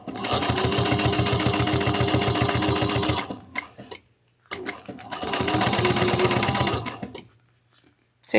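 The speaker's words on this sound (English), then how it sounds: "we're going to sew down this strap 1/8 of an inch on both sides" A sewing machine stitches down a clutch strap in two long, steady runs of fast needle chatter, close and loud, separated by a pause with a low hum before the second run.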